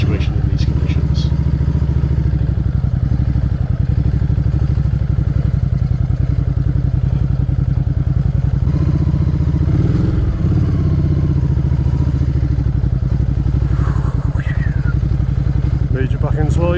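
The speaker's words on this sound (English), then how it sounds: "In the mud, however, the grip is lacking and the bike just wants to move sideways in places." A loaded off-road motorcycle rides through mud and gravel in rural Ireland, its engine droning loud and close throughout with rattling clatter and uneven thumps, and a rider's voice speaking over it.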